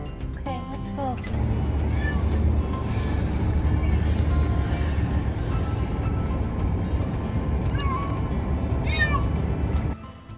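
A barn cat meows repeatedly from close by inside a moving car, its cries rising over a steady low road rumble, with a few short bursts of voices in between.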